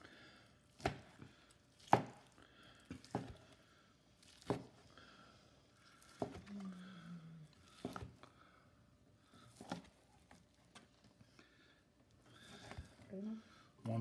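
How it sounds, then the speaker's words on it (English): A knife carves a Mexican-seasoned rotisserie turkey breast, making a dozen or so crisp, close cutting thuds at an uneven pace while a person talks quietly between strokes. "And now I'm going to slice it."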